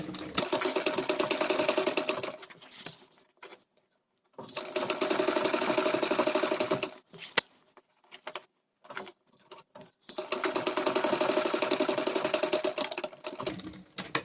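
A sewing machine stitching a zip into a kurti, running in three long steady bursts with short pauses and clicks between them.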